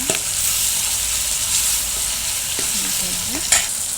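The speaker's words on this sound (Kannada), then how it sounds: "ಒಂದು ಬಾಣಲಿಯಲ್ಲಿ ಎಣ್ಣೆ ಈರುಳ್ಳಿ ಅರಿಶಿನ ಇಷ್ಟು ಹಾಕಿ ಕಳಿಸ್ಕೊಳ್ಳೋಣ" Onion and turmeric sautéing in oil in a pan, a loud steady sizzle with occasional scraping stirs and a spoon tap near the end, close up and without speech.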